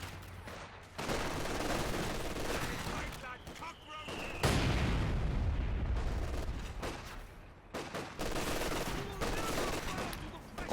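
Gunfire and grenade explosions from a Company of Heroes 2 match, bursts of rifle and machine-gun fire with heavy booms, loud and continuous, with a commentator talking over the battle.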